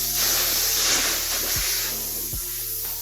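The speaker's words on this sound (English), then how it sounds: "I can hear that there's air coming out of the blue section." Air hisses steadily out of a leaking snow-spraying ugly Christmas sweater, a continuous broadband rush close by that tapers slightly toward the end, with a couple of faint low thumps underneath.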